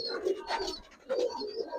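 Two Giribaz pigeons give low, rolling coos at close range, in two swelling bursts separated by a brief lull, with no voices present.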